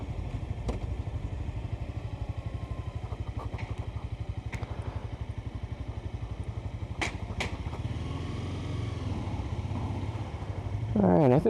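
A motorcycle engine runs with a steady low throbbing idle-like rumble while the rider downshifts, with a few clicks and clunks mid-way and a revving surge at the very end.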